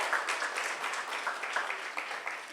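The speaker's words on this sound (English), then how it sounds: "Now you can clap for them at least" Audience applause at a 2024 leadership awards celebration honoring Griffin ambassadors, a steady, dense wash of many hands clapping at moderate distance, sustained without pause and fairly quiet.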